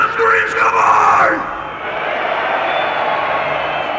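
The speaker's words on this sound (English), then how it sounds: "I want to hear everybody screaming as loud as they can, all right?" A loud crowd yells and screams together for over a second at an outdoor death metal festival show, then the noise falls away to a lingering, diffuse roar in a large space.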